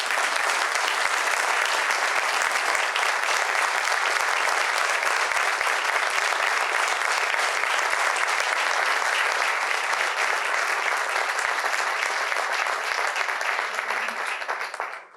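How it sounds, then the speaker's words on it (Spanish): An audience applauds at length after a military history lecture, with dense sustained clapping of a large crowd at even loudness throughout that tapers off sharply at the very end. "muchas gracias y un aplauso muy grande"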